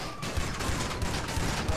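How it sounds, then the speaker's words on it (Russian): Shotgun fire in the GTA Online video game comes as a dense burst of repeated booming blasts over a noisy, busy game soundscape, loud and close with roughly even spacing. "давай я с дробовика убью"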